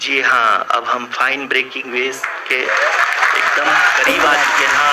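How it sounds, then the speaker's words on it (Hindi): Applause breaks out in mission control during the Chandrayaan-3 lunar landing descent, a broad sustained wash filling the second half under continuous Hindi commentary from a voice. "Lot of applause indicates that till now the performance has been nominal"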